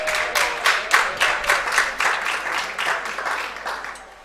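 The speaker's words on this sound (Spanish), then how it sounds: "evedo, representante de la ICP del Cono Sur, a quien le damos un grande aplauso." Audience at a panel session on new technologies clapping for a speaker, a short burst of dense applause that rises quickly, holds steady and begins to thin toward the end, heard alone at moderate distance.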